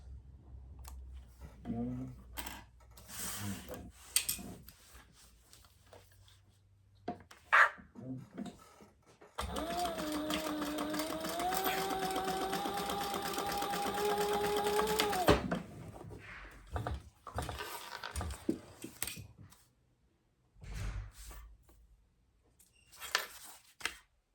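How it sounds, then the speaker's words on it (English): A sewing machine stitching card slots for a wallet runs in one steady, close motor whir lasting about six seconds, framed by quieter handling clicks and taps before and after. "You won't see these stitches, but just to secure all of those card slots."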